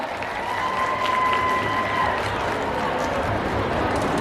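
An audience applauds at a film gala premiere talk session, steady clapping from a crowd with a tonal hum and faint voices mixed underneath.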